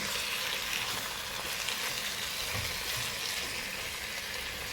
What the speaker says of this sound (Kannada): ಈಗ ಮ್ಯಾರಿನೇಟ್ ಮಾಡಿಟ್ಟಂತಹ ಚಿಕನನ್ನು ಸೇರಿಸ್ತಾ ಇದ್ದೇನೆ